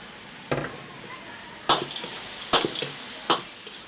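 Dried chilies are stirred through a hot sizzling wok in a Sichuan kitchen, four sharp scraping stirs landing at uneven intervals over a steady low sizzle, with no talk.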